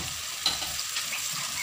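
Ground masala paste frying in oil for chicken kulambu, a steady close sizzle with soft stirring scrapes of a spoon through the pan throughout.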